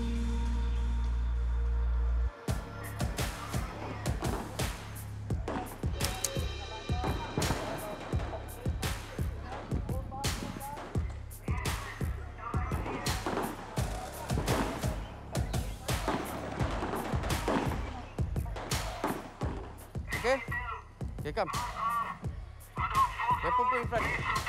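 Rifle shots at a Singapore army firing range crack out in a steady run of sharp reports, some close together, over a low constant hum, with voices talking throughout.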